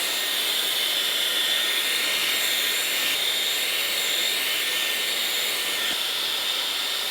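A Dyson Airwrap hair styler fitted with the blade concentrator attachment blows air in a loud, steady, close whoosh that holds without a break throughout.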